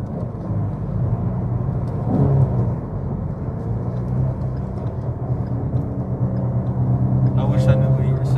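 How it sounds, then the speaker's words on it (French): A car engine hums steadily while driving, a low continuous rumble under people talking inside the cabin. "I'm saying that I like the engine, I like the sound."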